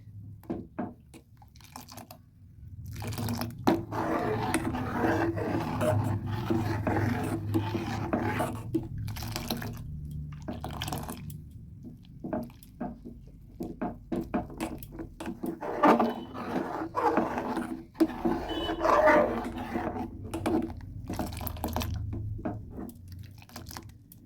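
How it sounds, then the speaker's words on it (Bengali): Nawabi semai milk mixture with milk powder, sugar, custard powder and cornflour is stirred in a pan to thicken, giving repeated soft scraping and sloshing strokes in irregular bursts with brief pauses. "ভালোভাবে নেড়ে নেড়ে ঘন করে নিতে হবে"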